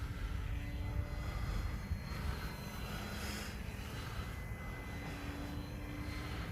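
Distant RC model airplane flying outdoors, a steady engine drone sustained throughout alongside constant wind and ambient noise, with no talk.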